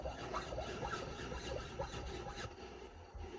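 A small round chainsaw file rasps along grooves on a hidden tang knife, a quiet, steady series of short back-and-forth filing strokes with no talk.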